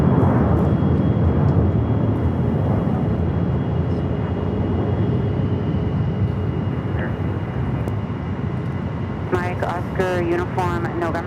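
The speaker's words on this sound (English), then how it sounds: "That's Southwest flights heading to Louisville, Kentucky, 737-800." A Southwest Boeing 737-800 jet at Phoenix Sky Harbor airport produces a loud, steady roar of engine noise that fills the whole stretch, and a voice speaks briefly near the end.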